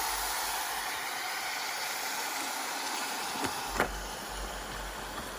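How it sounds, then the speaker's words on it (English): Steady, broad hissing from a self-heating hot pot heating element as it steams and bubbles under its lid, with a couple of brief clicks and pops near the end. "It's bubbling away in there."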